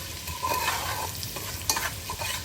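Finely chopped ginger and green chili stirred while sautéing in butter for a winter vegetable soup, a close, brisk sizzle with scraping spoon strokes and a couple of sharper clacks, no speech.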